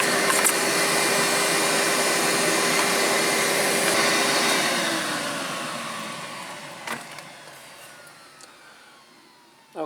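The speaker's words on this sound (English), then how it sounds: "let's see if that works as a small tube on the vacuum cleaner" A vacuum cleaner fitted with a small tube attachment runs loud and steady, used while replacing the cabin filter on a 2005 Hyundai Accent, then winds down and fades, with a couple of knocks and a click at the end.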